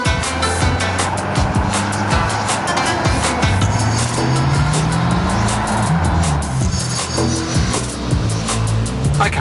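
Nissan GT-R driving, a steady close engine drone with rising tone sweeps as it accelerates, plus road and wind roar filling the whole clip.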